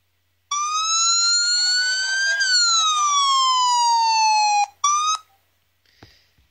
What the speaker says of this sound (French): Quand vous appuyez dessus, il y a une alarme qui va retentir.